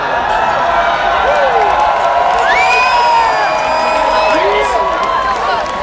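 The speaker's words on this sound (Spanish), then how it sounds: "la gente está aplaudiendo" Festival crowd at Glastonbury 2011 cheering and applauding as a band's instruments come in, a loud, dense wash of clapping and whoops with voices shouting throughout.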